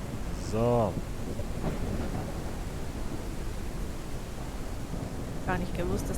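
Steady rain hisses through a thunderstorm in the video game Ranch Simulator, a constant wash of noise with brief voices speaking near the start and end.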